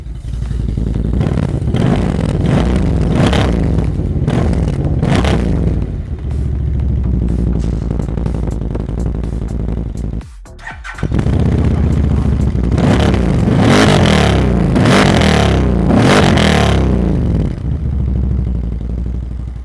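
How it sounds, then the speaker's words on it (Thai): A V-twin AODES 850 ATV exhaust rumbles loudly up close, rising in repeated throttle blips and revs over a steady idle, with a brief drop partway through before the revving resumes. "นี่คือเสียงท่อเขานะครับ"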